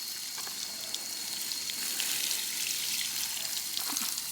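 Water sprays steadily from a garden hose onto flower beds, rocks and raspberry plants outdoors, a continuous soft hiss with faint splashing and no talk.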